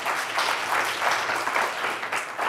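Audience applause at a business sales conference, a steady wash of many hands clapping at moderate volume, sustained evenly throughout.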